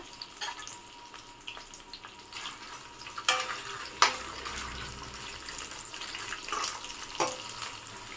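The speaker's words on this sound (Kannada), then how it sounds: "ಒಂದು ಈರುಳ್ಳಿ, ಒಣಗಿನ ಮೆಣಸಿನ್ಕಾಯಿ, ಬೆಳ್ಳುಳ್ಳಿ, ಶುಂಠಿ ಇದನ್ನು ಹಾಕ್ಕೊಂಡು ಫ್ರೈ ಮಾಡ್ಕೊಳ್ಳಿ." Onion, dried chilli, garlic and ginger frying in a pan, a soft, steady sizzle with a few sharper scraping stirs and clicks, fairly quiet and without any voices.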